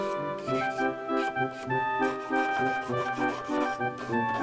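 Close-up rhythmic filing on a fishing rod tip during repair, repeated short rasping strokes in a steady back-and-forth pattern, with no talking.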